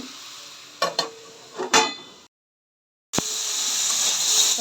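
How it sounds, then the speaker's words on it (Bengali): Vegetables being stirred in a cooking pot in a village kitchen, a few clattering scrapes and clinks of a utensil against the pot, then a short silence and a steady sizzle. "আবার একটু নেড়ে দিচ্ছি সবজিগুলো একটু সিদ্ধ হয়ে যাবে"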